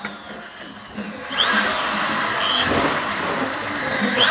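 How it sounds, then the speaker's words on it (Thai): A power drill whines steadily while drilling holes in a pellet press machine, starting quietly then surging loud around the midpoint and holding a continuous high-pitched grinding buzz. "เดี๋ยวผมขออนุญาต เจาะให้ เสร็จ ก่อนนะครับผม"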